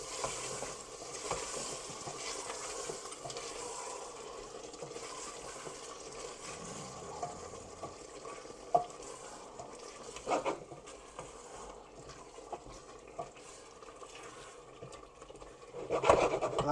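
Yogurt is stirred into haleem in a pot, a soft continuous scraping and stirring with gentle sizzling underneath, a few clacks of the spoon against the pot, close and fairly quiet.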